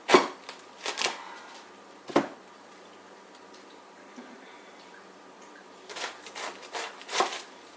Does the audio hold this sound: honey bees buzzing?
no